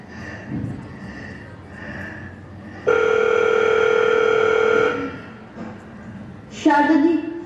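A telephone tone sounds on a call to a son during a stage play at an annual school fiesta, a steady two-second electronic tone between muffled voices, followed by a short burst of higher ringing.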